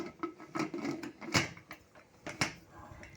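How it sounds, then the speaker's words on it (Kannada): A pressure cooker lid pushed shut, several short knocking and scraping clunks with a couple of sharper clicks, close and moderately loud. "ಈಗ ನಾನಿಲ್ಲಿ ಕುಕ್ಕರ್ ಲಿಡ್ನ ಕ್ಲೋಸ್ ಮಾಡ್ಕೊತಾ ಇದ್ದೀನಿ."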